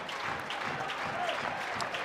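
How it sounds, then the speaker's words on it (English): Baseball crowd at a Texas vs Tennessee game applauding steadily after a strikeout pitch sequence, a dense, even wash of clapping and cheering heard from a distance with no break. "Crowd to their feet again."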